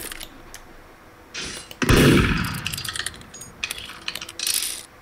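A gun fires in the Roblox game Murder Mystery 2, a loud sharp report with a ringing decay, followed by a few lighter metallic clinks and scattered game sounds.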